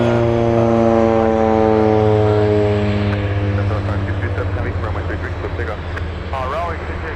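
A China Southern airliner takes off at Anchorage airport, its engines roaring loud and close with a steady whine that slowly falls away, while people talk over the noise.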